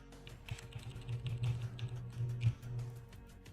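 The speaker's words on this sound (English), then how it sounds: "Nah, Crony, just keyboard gameplay." Computer keyboard typing during a stat-grinding gameplay session, a steady run of light, quick key clicks over a low hum, continuing throughout without speech.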